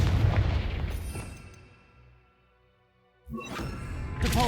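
A Confringo fire-blast spell from Hogwarts Legacy erupts in a loud, booming explosion that rolls off and fades to near silence, followed by a fresh burst of crackling blasts.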